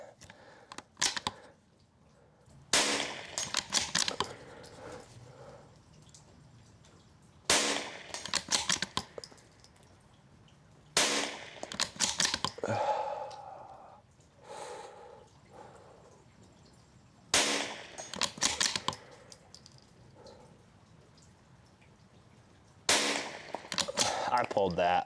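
A Bergara B14R rimfire rifle fires at a target during practice, sharp close cracks spaced several seconds apart, about five shots with bolt and handling clicks between them and someone speaking quietly.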